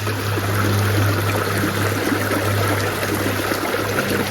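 Creek water flows steadily and loudly nearby, a continuous rushing torrent with trickling and pouring texture and a low constant hum beneath, no talking.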